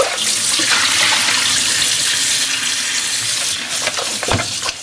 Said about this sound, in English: So first we're going to rinse the meat.